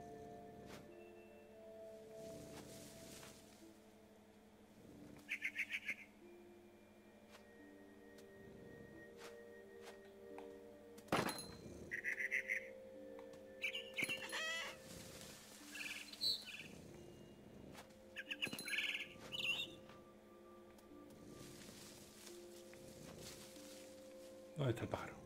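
Short bright chirps from a frightened bird in the video game What Remains of Edith Finch, several brief flurries of calls over quiet ambient tones, with a person speaking in between.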